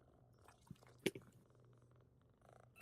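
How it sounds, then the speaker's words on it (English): A cat purrs softly behind a gamer's setup during play, a low steady rumble running under the whole stretch with a few brief louder bumps and clicks, faint and close by, no talk. "I hear purring because the cat's behind."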